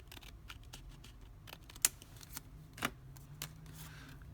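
Scissors snip through paper for a country diary page, a few quiet, sharp cuts spaced irregularly over a low background hum with soft shuffling of paper between them.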